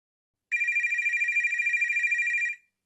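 A telephone rings in one continuous electronic trill lasting about two seconds, clear and fairly close, then stops, with no voices around it.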